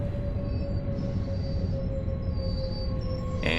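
Swiss S-Bahn train in Train Sim World 2 braking hard at a platform stop on the Luzern–Sursee route: a sustained high squeal rides over steady rumbling wheel noise, with a brief hiss near the end.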